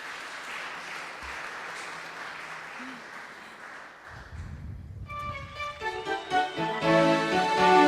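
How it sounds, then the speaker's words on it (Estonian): Applause at the Kuldne Plaat 2014 music awards ceremony, a moderate crowd clapping that fades out midway before musical tones and a rising instrumental sting take over. "Suur aplaus!"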